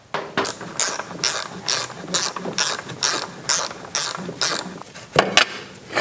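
A hand ratchet tightens the hugger bolt on a Honda PCX150 scooter, giving a dozen or so rapid, evenly spaced clicking strokes close to the mic, with no talk.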